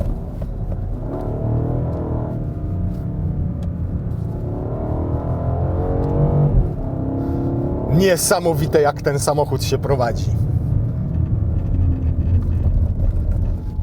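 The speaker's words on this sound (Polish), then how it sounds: "Ten silnik jak warczy, trochę już w tym trybie sportowym przy wyższych obrotach ma taki bardziej syntetyczny ten dźwięk." A BMW X7 M60i in sport mode growls low and steady while driving, rising to a burst of higher engine revs midway, all under a voice talking throughout.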